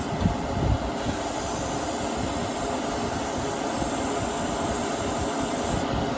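Clear coat is sprayed onto a model car body in a medium wet coat, heard as a steady, close, continuous hiss of spray with a slight rumble and no talking.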